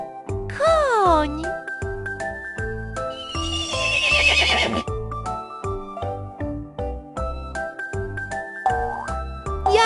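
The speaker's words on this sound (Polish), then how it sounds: "Koń!" A farm horse gives a loud, wavering neigh near the start, followed by a busy children's song with jingling and clip-clop-like beats continuing underneath.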